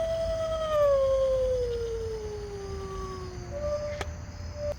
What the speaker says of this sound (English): I got the howling wolf